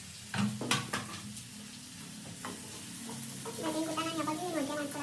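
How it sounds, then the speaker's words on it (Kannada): Tomatoes frying with onions in a pan for a brinjal dish, with a few stirring clatters early on and a steady sizzle building toward the end. "ಸೊ ಟೊಮೆಟೊ ಎಲ್ಲ ಫ್ರೈ ಆಗಿ 1-2 ಮಿನಿಟ್ಸ್ ಫ್ರೈ ಆಗಲಿ."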